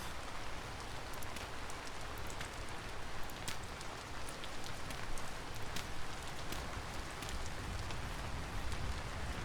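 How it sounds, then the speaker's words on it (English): Steady rain falling in the survival video game Vintage Story, a continuous dense patter with scattered sharper drops, no voices. "Yeah, it's been raining quite a bit"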